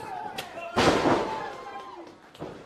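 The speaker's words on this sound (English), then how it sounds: "just tosses Griffin McCoy right into that door" A wrestler is thrown into a door during a live pro wrestling match, giving one loud, broad crashing impact near the middle, set among commentary and crowd noise.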